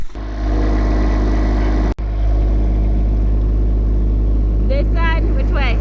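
A tractor pulling up a metal T-post during site preparation for a storage pavilion, its engine roaring loud and close and continuous, with a voice speaking over it.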